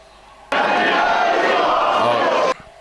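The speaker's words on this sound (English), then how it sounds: "And the crowd are getting on Hade Vansen." A wrestling crowd jeers loudly at a wrestler, a dense roar of booing and shouting that cuts in sharply, holds steady for about two seconds, then stops abruptly.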